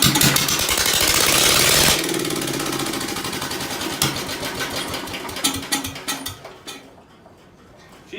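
A Ford engine after a tune-up catches and runs, with a loud buzzing, steady idle at first that turns into an uneven, sputtering chug toward the end and starts to falter.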